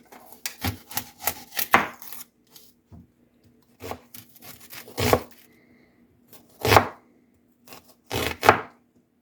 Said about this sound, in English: And we need to slice an onion.